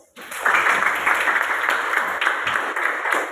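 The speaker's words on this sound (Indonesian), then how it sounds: "Ya, tepuk tangan dulu" A classroom of students claps on cue, a burst of crowd applause starting abruptly and continuing steadily and fairly loud, with a faint voice in the background.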